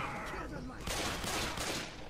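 A burst of Left 4 Dead 2 gunfire crackles, a sharp shot followed by a rapid volley of noisy bangs, moderately loud.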